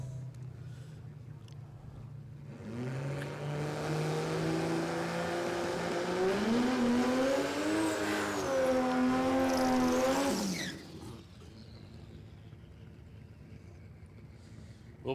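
Drag racing car hot lapping at Warwick Dragway in Australia, with engine idle giving way to a loud, climbing acceleration through several gear changes that cuts off abruptly, followed by a quieter rumble.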